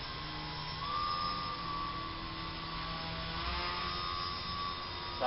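An Edge 540 model airplane flies indoors, its small electric motor giving a steady whining drone with a rising pitch sweep near the start and shifting throttle tones throughout.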